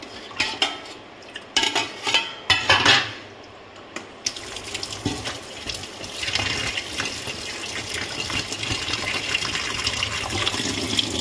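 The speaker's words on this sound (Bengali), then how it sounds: "তো এখন মাছটাকে একটু ধুয়ে নিই" Fish being rinsed under running tap water in a kitchen sink, with clinks and knocks of a pan or dish at first, then a steady rushing stream of water filling and splashing continuously, close and fairly loud.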